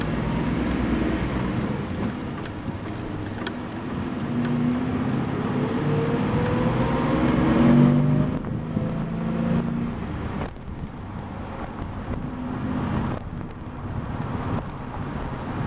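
Daimler Chrysler truck with its original exhaust system backing slowly out of a driveway, a low steady engine rumble up close with shifting tone and some wind buffeting, no talking.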